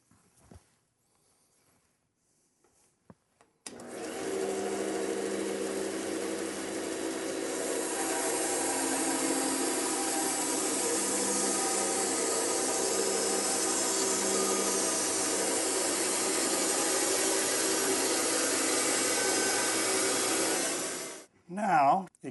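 Band saw cutting freehand straight through an elm log, a loud sustained whine and rasp of the blade in the wood that holds steady for about seventeen seconds, then stops abruptly.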